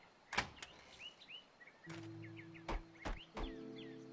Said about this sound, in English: Gonna knock on the door.